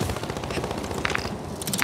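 Rapid automatic gunfire in a video game, a dense rattling burst of shots close by that continues through the clip, with a few sharper cracks near the end.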